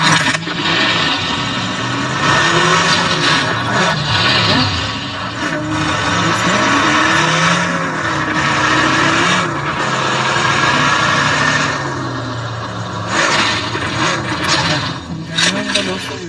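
A vehicle engine in the video game PUBG revs and accelerates, a droning motor tone rising and falling in pitch continuously under someone talking throughout.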